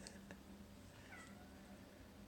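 A cat meows faintly once or twice against a steady background hum, with no talking, in a kitchen where pancakes are being made.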